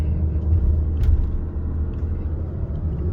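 A pickup truck drives steadily at around twenty-five miles per hour, its low engine and road rumble droning continuously and loud from inside the cab.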